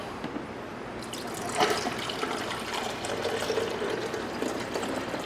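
Water pours steadily into the top of a coffee maker for several seconds, a continuous splashing trickle close by with a slight surge partway through.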